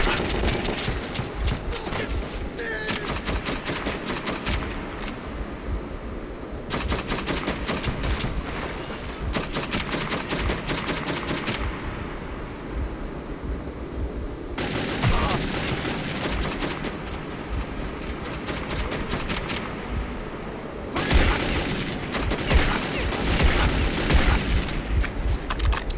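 Repeated bursts of gunfire in the Metro 2033 video game come in several loud, dense volleys separated by brief quieter gaps, with automatic fire rattling throughout.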